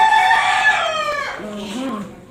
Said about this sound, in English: Those are the black Brahmas.